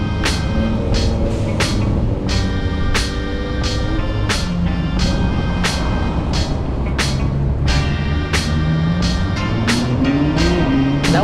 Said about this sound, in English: Now we're actually driving in the car